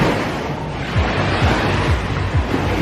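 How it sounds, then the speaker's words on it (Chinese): Ocean waves wash onto a beach in Cancún, a steady broad roar of surf with gentle swells and some wind noise across the microphone, close and continuous with no talking. "这边就是大海"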